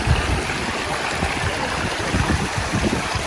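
Steady splashing and gurgling of flowing water from a small water feature beside steps in Birmingham, continuous and fairly close, with no voices.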